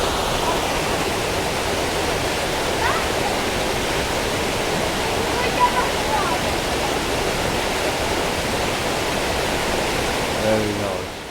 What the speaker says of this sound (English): this is the largest of the waterfalls